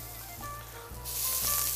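Lime sizzling as it fries in a pan, a steady close crackle that swells louder partway through, with no one speaking.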